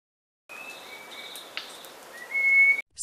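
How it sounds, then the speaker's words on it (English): Spot-winged ground thrush call, a series of thin, clear whistled notes at moderate volume, ending in a louder, sustained high whistle over faint background hiss. "Spot-winged ground thrush."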